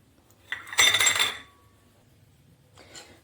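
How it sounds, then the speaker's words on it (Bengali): Metal idli bowls being greased with a little oil and handled, a short burst of close metallic clinks and clatter, then quiet, then a second fainter scrape near the end, with no voices. "সামান্য তেল লাগিয়ে দিচ্ছি। এইভাবে প্রত্যেকটা বাটি আমি রেডি করে নেব এখন।"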